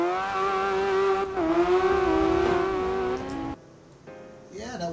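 Nissan S13 drifting in tandem in the CarX racing game: a loud, sustained engine drone with shifting revs, tire squeal smeared through, then a sudden drop near the end before the engine climbs again.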